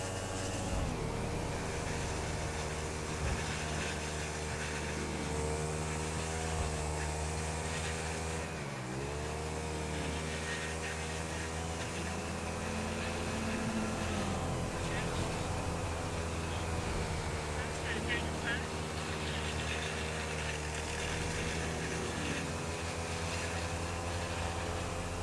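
A small lawn mower engine runs steadily at a constant idle drone, moderately loud and close, with a brief dip in pitch partway through before settling back.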